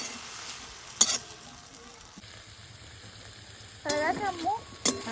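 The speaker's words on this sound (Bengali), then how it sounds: "একটু জিরে গুঁড়ো, একটু ধনে গুঁড়ো, একটু নাড়াচাড়া করে চাপা দিয়ে দেবো।" Cumin and coriander powder are stirred into vegetables frying in a pan, giving a faint, low sizzle with a brief clatter of stirring, and a voice speaks briefly near the end.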